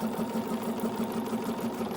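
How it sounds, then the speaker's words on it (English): A sewing machine stitches around the top of a fabric tote bag with a fast, even mechanical whir that runs without a break and sounds close and loud. "I'm just going to continue stitching all the way around the entire top of the tote"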